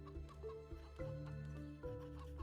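Chickens clucking in the video game Stonehearth, several short, repeated clucks over a low steady game backdrop, moderately loud and heard without talk.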